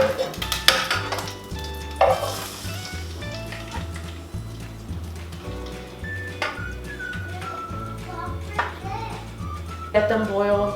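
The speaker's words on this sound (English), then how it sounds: "I'm just gonna go ahead and add my beans now." Beans go into a hot pan with chiles de árbol, making a sizzle with clinks and stirring of cookware under a continuous talking voice, with music playing in the background.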